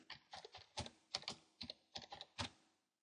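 Fingers type a short word on a computer keyboard, a quick, close run of about a dozen light key clicks in small irregular clusters, quiet and alone.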